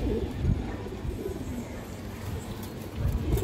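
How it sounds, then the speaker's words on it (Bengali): A khaki pigeon, an old-bred milky khaki female, cooing in low, murmuring pulses that come and go near the microphone over a steady background hum, with no talk. "খুবই সুন্দর একটা মাদি কবুতর, একদম পুরনো ব্রাডের খাকি, দুধ খাকি মাদি"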